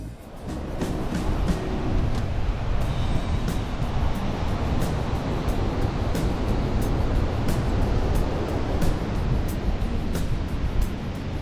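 Surf at Kuta Beach in Bali in the early morning: a steady, continuous roar of breaking waves with no voices.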